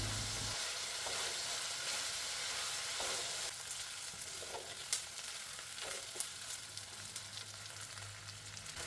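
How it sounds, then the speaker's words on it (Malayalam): Snake gourd pieces and garlic sauté in a pan for a Kerala curry, a soft steady sizzle with occasional light clicks of a spoon against the pan, close and quiet, with no voices. "ഇതൊന്ന് വാട്ടിയെടുക്കണം ഇതിലേക്ക് ഒരു മൂന്നാല് വെളുപ്പുള്ളി കൂടി ഇടുന്നുണ്ട്"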